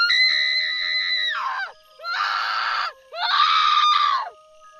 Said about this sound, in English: A chilling scream echoed from somewhere deep in the maze. It was long and drawn out,